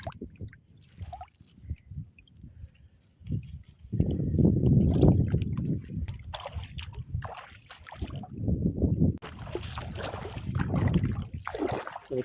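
A small wooden bangka moving on water during a shrimp-catching outing, with low sloshing, gurgling and knocking that swells and fades in uneven bursts, close by and fairly loud, with no talk.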